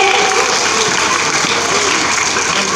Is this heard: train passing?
no